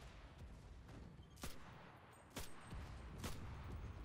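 Three separate M1 carbine shots in a video game, spaced about a second apart, each a sharp, fairly distant crack over quiet background noise.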